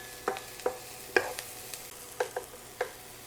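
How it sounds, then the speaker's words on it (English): Celery and onions with minced garlic sizzle in an oily pan while a utensil stirs them, sharp scraping clicks landing every half second or so over a steady frying hiss, close and moderately quiet. "We're going to stir that around for 30 seconds."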